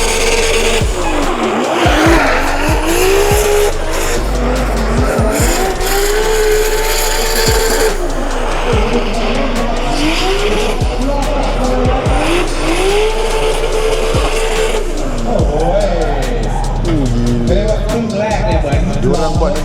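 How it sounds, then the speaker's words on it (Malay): Cars drift in figure eights at a drift event at Impact Speedfest in Thailand, with loud engines revving hard and continuous tire squeal and skidding close by. "sekarang sedang berlangsungnya drift event yang ada dekat Impact Speedfest ni"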